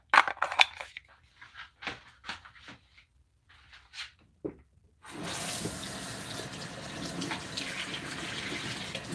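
Running tap water pours steadily over a coffee filter being rinsed at a home sink, a continuous close splashing wash that starts abruptly after several seconds of small clicks and handling knocks.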